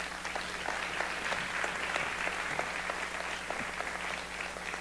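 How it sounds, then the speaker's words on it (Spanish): Applause from a church congregation during a sermon, a steady wash of many hands clapping that holds at even strength throughout, with no voices over it. "Denles un aplauso a ellos"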